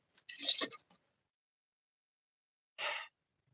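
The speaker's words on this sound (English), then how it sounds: "here's the basic breath. I mentioned before, making that ha sound." A person exhales a breathy "ha" onto glasses to fog them, with two short soft breaths separated by near silence.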